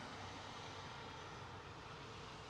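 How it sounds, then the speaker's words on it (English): A British Airways Boeing Dreamliner takes off from London Heathrow, heard as a steady, faint, broadband jet engine roar with no clear rise or fall. "a British Airways Dreamliner has taken flight"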